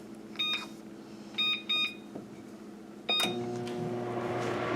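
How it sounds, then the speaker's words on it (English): A microwave oven heating a mug of French vanilla tea with soy milk gives a few sharp close beeps from its keypad, then starts a steady humming run with a low motor drone. "this I'm going to put in the microwave for like 2 minutes"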